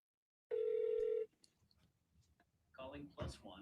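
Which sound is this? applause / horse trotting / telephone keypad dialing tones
telephone keypad dialing tones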